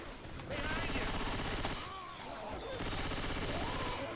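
Rapid bursts of gunfire from Left 4 Dead 2 survival play on the Nach Der Untoten map, dense and loud in two long stretches with a short lull between, mixed with game noise and a voice talking.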